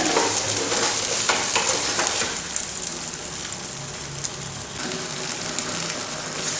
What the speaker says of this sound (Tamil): கொஞ்சம் நேரம் நல்லா பீர்க்கங்காய் நல்லா வதங்குற வரைக்கும் வதக்கி விட்டுருங்க.